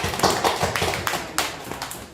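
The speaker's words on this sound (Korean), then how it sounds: "그러면 다 같이 박수로 환영합니다." Church congregation clapping in welcome during a Sunday worship service, a close, fairly loud burst of distinct hand claps in an uneven rhythm that gradually thins out.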